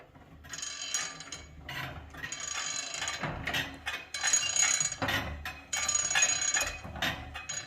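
An old hand-pumped blower on a blacksmith's coal forge is worked, its gears and mechanism giving a close, loud ratcheting whir that rises and falls in repeated strokes.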